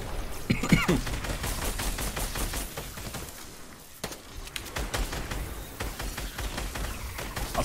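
Rapid bursts of video game gunfire crackle almost continuously, with sharp, repeated shots stacking into dense volleys and brief lulls between them.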